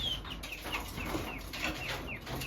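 Homestead quail call and chirp close by in a busy flock, with repeated short high calls and soft clucks layered over each other against steady background noise.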